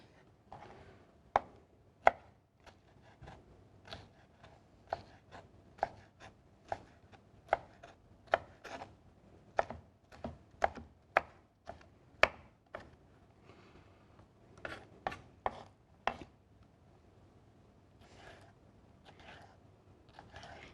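Rapid, steady knife chops through an onion on a cutting board, dozens of crisp close strikes in an even rhythm, pausing briefly before a few more cuts.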